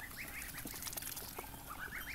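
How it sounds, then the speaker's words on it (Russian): Two- to two-and-a-half-month-old Muscovy ducklings call in a steady run of soft, repeated peeping notes over constant farmyard background noise, with no talking. "Это у нас утята мускусной утки."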